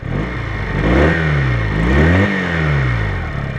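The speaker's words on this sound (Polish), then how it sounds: "Także pokażę Wam teraz przyspieszenie tego motocykla." A warmed-up Junak M11 Cafe motorcycle accelerates hard on the road, its engine revving up through rising pitches, dropping between gear changes and climbing again, loud and close with no talking.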